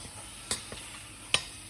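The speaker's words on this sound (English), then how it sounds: "and you're frying your chapatis." A chapati fries in a pan with a faint, steady sizzle broken by a few soft pops and ticks, heard up close and quiet.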